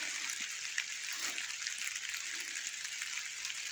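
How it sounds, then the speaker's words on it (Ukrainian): Rain falling in a forest on a winter day, a faint, steady hiss of drops with no voices, continuous and even throughout. "Ми знову в лісі, падає дощ."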